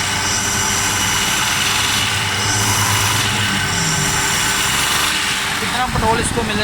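A Suzuki Khyber car engine with a freshly tuned Japanese carburetor idles close by in a steady, even drone. Someone talks over the running engine.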